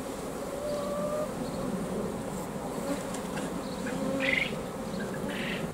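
Honeybees buzz around a beehive on a suburban allotment in a steady, close, continuous drone, with individual bees flying past briefly louder.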